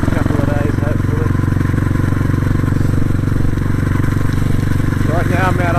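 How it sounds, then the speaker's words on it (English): A motorbike engine drones steadily and close while riding out on a farm, a continuous loud rumble with a faint voice talking under it. "now back on the motorbike"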